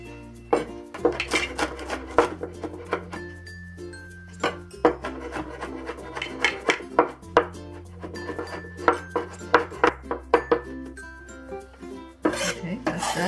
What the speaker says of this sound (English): let's start with mincing the garlic